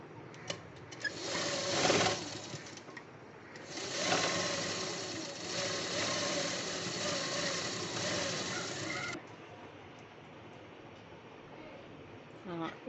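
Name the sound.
sewing machine stitching a fabric band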